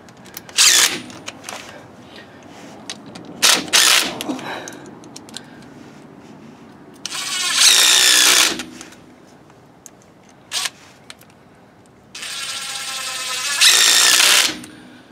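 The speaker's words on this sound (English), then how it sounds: "You don't want to start bolts with the impact like this." An impact wrench drives bolts in bursts: short rattling hits early on, then two longer loud sustained hammering runs, separated by quieter workshop pauses.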